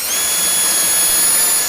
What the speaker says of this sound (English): Cordless drill.